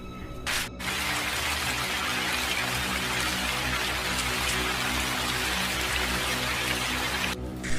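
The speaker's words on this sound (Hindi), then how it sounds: "इतना कहते ही तुरंत वहाँ पे बारिश हो जाती है।" Steady, dense rain falls in a cartoon scene, a loud continuous wash of drops that runs unbroken from start to finish with no voices.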